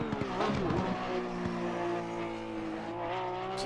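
A 2021 Porsche GT3R race car in Assetto Corsa Competizione at Imola runs at high revs, its engine note climbing and shifting through gears, with brief tire squeal, loud and close.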